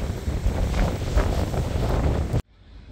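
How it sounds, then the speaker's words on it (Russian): Heavy wind in Dublin buffeting the microphone with a loud, low roar for over two seconds, then cutting off abruptly to near quiet. "Сегодня такой прям ужасный ветер в Дублине."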